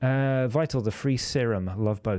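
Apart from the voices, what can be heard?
No everyday noises stand out.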